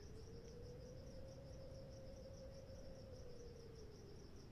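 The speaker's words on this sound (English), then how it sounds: "You can hear my crickets outside." Crickets chirp in a steady, continuous pulse outdoors at night, faint and distant, with a constant low hum underneath.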